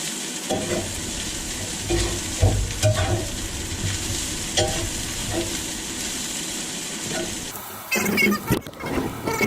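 Chicken fried rice being stirred and pushed around a hot cast iron skillet, giving a loud, close, continuous sizzle with irregular scraping strokes and a brief clatter near the end.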